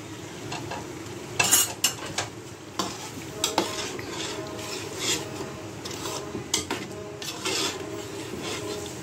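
A spoon scrapes and stirs potatoes and water around in a pot for chickpea biryani, with irregular clanks against the metal over a soft sizzle.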